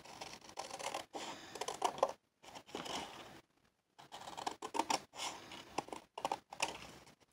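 Scissors trim the edge of a paper board for a handmade envelope journal, giving quiet, close snipping and rustling in uneven bursts with short pauses.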